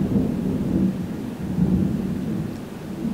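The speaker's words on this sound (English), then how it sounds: "Thunder and lightning" Steady, loud thunder rolls through a thunderstorm near the 9/11 Memorial, with rain hissing underneath and no voices.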